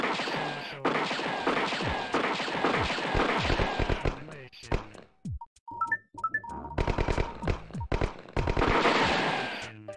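Gunshots from a Nintendo 64DD game ring out as a loud, fast run of sharp retro blasts, then give way to a stretch of sparse clicks and tones before another burst of firing. Someone talks over parts of it.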